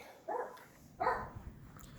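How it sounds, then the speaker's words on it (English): Dogs bark in the background, two distinct barks roughly a second apart, moderately loud against a quiet indoor backdrop. "Got the dogs barking in the back,"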